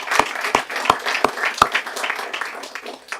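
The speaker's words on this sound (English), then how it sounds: "let's give them a round of applause if we would," A few distinct, fairly close claps followed by lighter scattered clapping in a city council chamber during a regular session, with the applause tapering off toward the end.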